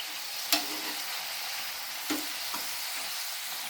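Spices being stirred into a frying eggplant and potato bhaji, a steady soft sizzle with two or three distinct scrapes of the spoon against the pan.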